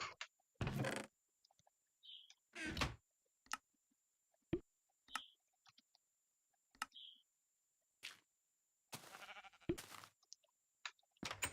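Sheep in the Minecraft video game bleating in short, separate bursts spaced across the stretch, clear and close, with brief clicks and quiet gaps between.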